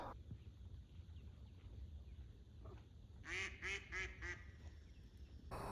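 Four quick duck quacks sound at a moderate distance over a steady rush of wind and water, near Mt Hood, Oregon.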